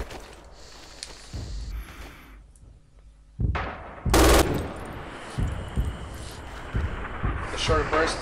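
An MG 42 machine gun in Red Orchestra 2 trench warfare fires short rapid bursts, sharp and close, with someone speaking and quieter battle sounds between them.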